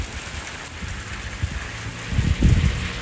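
Steady rain falls in Greymouth, a constant hiss of drops on surfaces with a low rumble and some heavier gusts of rainfall building toward the end.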